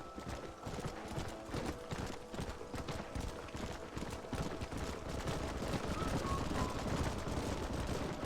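Horses' hooves clip-clopping steadily in the Red Dead Redemption video game as a herd is led toward a canyon, a continuous near rhythm with gunfire-like pops and occasional speech mixed in.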